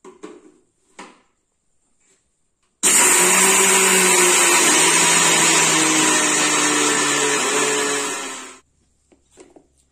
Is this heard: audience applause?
no